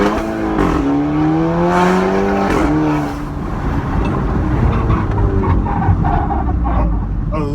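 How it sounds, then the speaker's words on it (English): Modified Audi TT driven hard, its engine loud and steady throughout with rising revving tones and a faint scraping rub from the tires against the bodywork under extreme braking. "A little bit of rub on the extreme braking, but that's expected."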